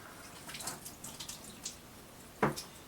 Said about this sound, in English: Let me rinse my hand here